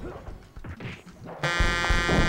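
A harsh, sustained Family Feud-style buzzer blares in Mortal Kombat 1, cutting in loudly after a stretch of low game noise and muffled voices and holding to the end.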